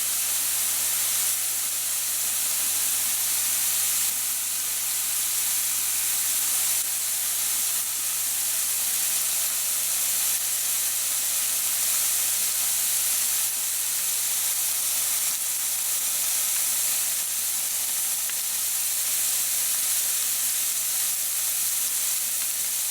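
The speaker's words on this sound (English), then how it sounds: "you can see it fizzing quite a lot. So I'm just on the edge here really, that's the water coming out of it" Ragu meat browning in a hot pan, a steady, dense sizzle and fizz of moisture cooking off that holds evenly throughout with no speech.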